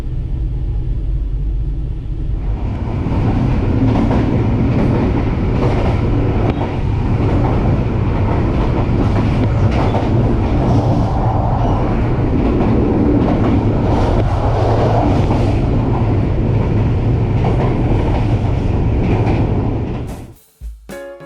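The Gunung Jati passenger train rolls along the rails between Jakarta and Cirebon, heard from inside as a loud, continuous low rumble with rhythmic clickety-clack of wheels, steady throughout before cutting off near the end.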